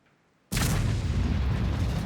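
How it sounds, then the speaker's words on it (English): An artillery shell fired from the GW-E100 self-propelled gun in World of Tanks on Prokhorovka, a sudden heavy boom after near-silence that rolls into a sustained loud rumble. "That's a shot from our other SPG, the GW-E100."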